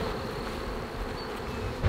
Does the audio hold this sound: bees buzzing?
yes